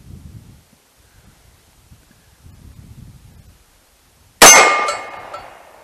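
A single sharp Rock Island Armory M206 .38 Special revolver shot, fired single action, bursts out loud after a few seconds of faint rustling and ends in a ringing, decaying tail.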